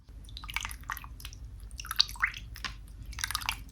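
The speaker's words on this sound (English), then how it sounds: "We're gonna start off with our warm water per usual." Warm water dripping and splashing in irregular bursts in a bathroom before a head shave, close and fairly clear with no talking.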